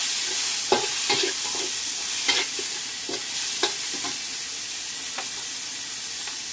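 Pork and onions fry in a hot pan in a Thai restaurant kitchen, a steady sizzling hiss punctuated by sharp scraping and stirring clicks of a utensil against the pan.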